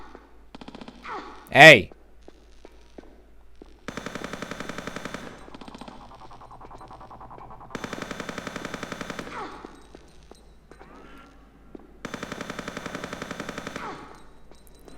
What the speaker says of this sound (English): And if we keep shooting at him.